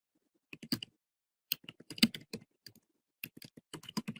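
Someone types a JavaScript alert script on a computer keyboard: close, crisp clusters of rapid keystrokes broken by short pauses, with no other sound.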